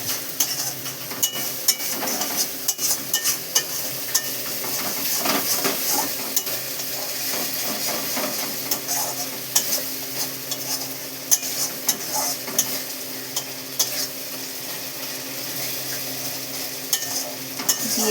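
Fish curry masala with cumin, coriander and chilli powder sautéing in a pan for a lentil-fritter fish curry, a steady close sizzle with spoon scrapes and stirring clinks running throughout, no talking.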